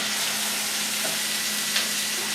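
Pork chops sizzle and fry loudly in a pan, a steady close crackling hiss with no talking.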